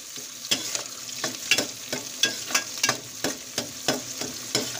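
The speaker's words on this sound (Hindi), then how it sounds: "यहाँ प्याज को मैं थोड़ा सा उला रही हूँ, इसको कलर होने देते हैं प्याज को थोड़ा सा।" Onion fries in a pan in a village kitchen, a soft steady sizzle broken by regular scraping strokes as it is stirred, close and alone without voices.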